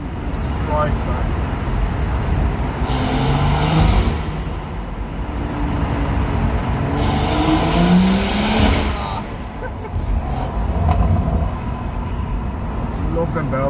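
A 460 bhp Stage 2 BMW M140i with a Quicksilver exhaust accelerates through a tunnel, its engine droning loudly with crackling pops and burbles, heard from inside the car with occasional voices over it.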